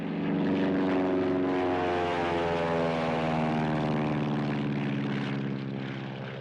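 A propeller-driven airplane drones loudly overhead, its engine hum steady and strong, then slowly fading toward the end with no voices.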